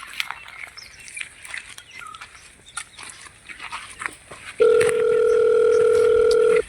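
A telephone dial tone sounds while a call is placed to a broker in a rural Gujarati setting. A steady, loud, unbroken tone starts abruptly after scattered dog barks and bird chirps, then cuts off at the end.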